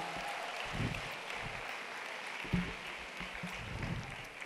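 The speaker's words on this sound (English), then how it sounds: "A round of applause for Mrs." An audience at a women's business conference plenary applauds a panel moderator, a steady wash of clapping throughout with a few louder claps standing out, no speech over it.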